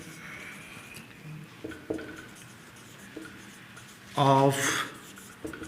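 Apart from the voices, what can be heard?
writing on paper with a pen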